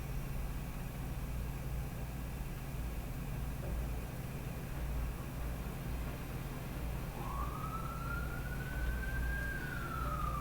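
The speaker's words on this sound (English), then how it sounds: "Sorry about the siren in the background" A distant emergency vehicle siren rises once and holds a single wailing tone late on, faint above a constant low rumble of background noise.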